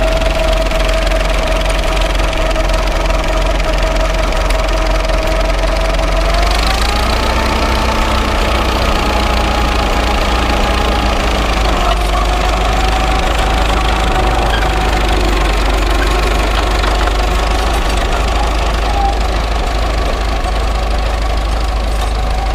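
A tractor engine running steadily at a loud, constant idle-to-working pace, its tone shifting slightly as engine speed rises, with a persistent knocking rumble throughout and no voices.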